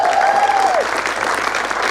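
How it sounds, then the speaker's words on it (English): A theatre audience applauds the playwright Stef Smith at a live Q&A, sustained even clapping from many hands, a brief faint whistle-like tone fading over the start. "Round of applause for Stef, I think."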